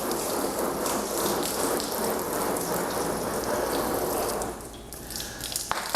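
A garden hose nozzle on its shower setting sprays water onto a car, a steady rain-like rushing hiss for several seconds that drops away near the end, leaving a few faint drips and knocks.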